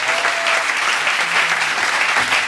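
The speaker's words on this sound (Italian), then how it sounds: "Facciamo un grande applauso" An audience at a Sicilian cabaret show gives Miss World contestants a loud, sustained round of applause that stays dense and even throughout.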